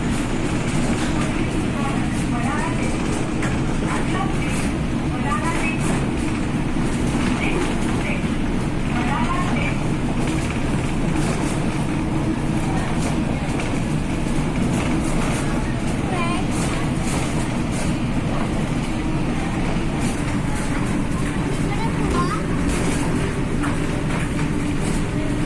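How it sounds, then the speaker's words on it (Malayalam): A Mumbai monorail train runs along its single elevated beam, giving a loud, steady rumble and rushing drone that holds throughout with wind buffeting the microphone. "ഈ ഒരൊറ്റ ബീമിന് മുകളിലൂടെ കടന്നു പോകുന്ന ഈ മോണോ റെയിൽ സിസ്റ്റം"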